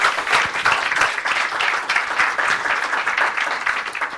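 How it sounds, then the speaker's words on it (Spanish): A church congregation claps loudly and continuously, the applause swelling in uneven waves for about four seconds with no talking over it. "Démosle un aplauso al Señor fuerte, hermano."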